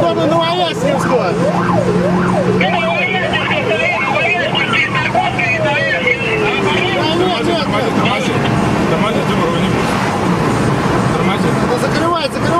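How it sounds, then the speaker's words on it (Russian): A police car siren wails loudly during a street chase, cycling through rapid yelp patterns and a long falling tone, with traffic noise and people talking underneath. "Сирена."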